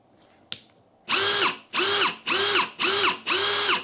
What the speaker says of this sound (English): Doesn't that sound like a Milwaukee drill?